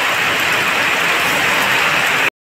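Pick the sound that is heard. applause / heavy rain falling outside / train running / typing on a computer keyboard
heavy rain falling outside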